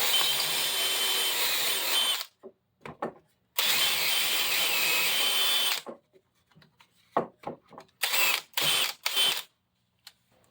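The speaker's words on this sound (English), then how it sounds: "Got to drill a second hole" Power drill boring a second hole into a big clay pot, two long steady grinding runs followed by several short bursts and brief stops, fairly close in a quiet underground workshop.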